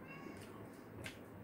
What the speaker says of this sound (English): She's meowing down there.